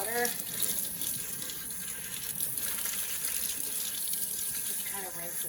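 Hot water runs from a kitchen tap into a sink to rinse a raw chicken before baking, a steady close gush splashing continuously, with a voice speaking briefly at the start and end.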